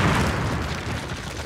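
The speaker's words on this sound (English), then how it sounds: "Nice explosion" Explosives detonate against a cinder block wall in Call of Duty, leaving a loud, sustained low rumble and crackle that rolls on for the whole moment with no voices over it.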